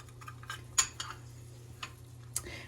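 A utensil stirs a garlic tahini dressing in a bowl, giving a few sparse, faint clinks and taps against the side over a quiet background hum.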